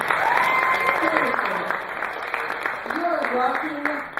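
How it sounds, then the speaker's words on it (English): An audience at a benefit event applauding steadily throughout, with a voice talking over the clapping. "Could we just please give a round of applause for Charles?"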